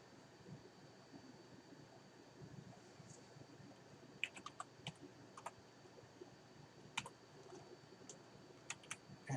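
A computer keyboard is typed on in short, uneven bursts of clicks, faint and close, against a quiet background hum.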